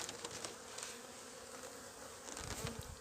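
Honeybees buzz around a hive that is being checked for moisture and mould before overwintering, a steady close insect drone that persists for the whole three seconds with no voices.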